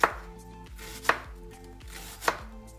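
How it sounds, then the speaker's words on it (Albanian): Onion chopped on a board with a knife for stuffed peppers with minced meat: three sharp, evenly spaced chops about a second apart, close and distinct, with no talking. "Puna e parë grim qepën"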